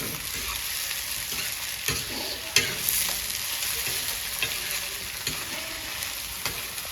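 Onions and cumin powder browning in a pan for a fenugreek and spinach kadhi, a steady close sizzle with occasional stirring scrapes and knocks.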